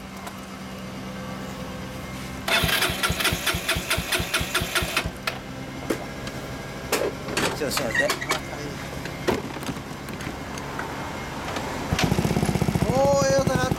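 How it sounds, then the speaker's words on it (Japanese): A 2005 Yamaha Majesty 125 scooter fitted with a WirusWin exhaust idles and revs repeatedly, loud and close, with bursts of throttle rising and falling and a brief spoken remark nearby. "ちょっとエンジン音聞かせてもらえるかな。"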